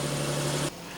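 A 2016 Nissan 370Z's 3.7-liter V6 idles just after start-up with a steady, fairly loud hum that drops to a lower, quieter idle near the end of the brief moment.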